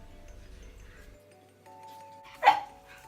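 A dog gives a single short, sharp bark or yelp near the end, loud against a quiet room with a faint hum beforehand.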